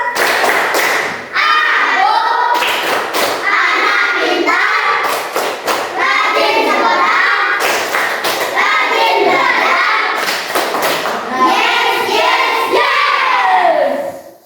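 Children in a classroom clap along in rhythmic patterns while chanting the Tepuk Anak Pintar clapping chant together, loud and close, the claps coming in quick patterned bursts between sung phrases.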